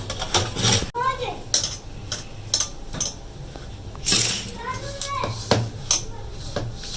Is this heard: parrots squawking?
no